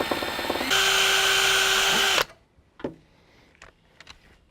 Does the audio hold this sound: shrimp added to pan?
no